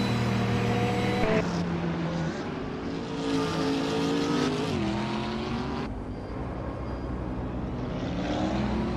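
Ferrari 488 GTE race car engines from a 2015 model in a racing video game roar continuously and loudly, with rising and falling revs, gear shifts and overlapping cars, no voices.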